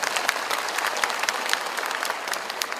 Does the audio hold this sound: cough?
no